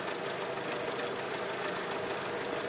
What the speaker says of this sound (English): a fan that seems to be spinning out of control